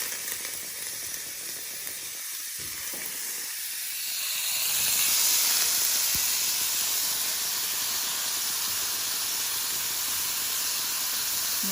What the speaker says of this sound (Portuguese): fritar o nosso bacon